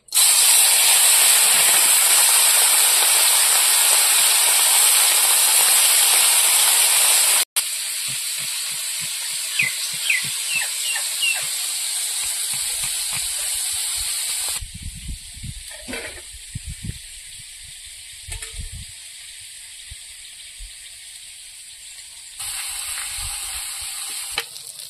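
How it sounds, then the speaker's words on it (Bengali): Small mourala fish fry in hot oil with a loud, dense sizzle and hiss that drops in level partway through, then continues more softly with occasional spatter pops and a few handling sounds. "এবার মাছগুলো ভেজে নেব।"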